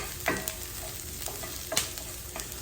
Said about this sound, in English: we just want to sweat these jalapenos a little bit